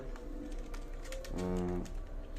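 A Teddy pigeon gives a soft, throaty coo partway through, close by, over a steady hum of background noise.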